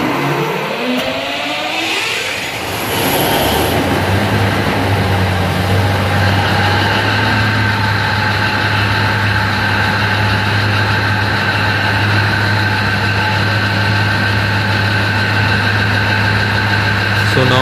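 A diesel generator engine cranks and catches, then settles into a loud, steady idle drone with a deep low hum and constant rattle, running close by.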